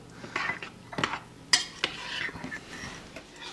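A spoon gently folds sour cream into Swedish meatballs in a crockpot, with a few clear clinks and scrapes against the pot's ceramic sides over soft, wet stirring.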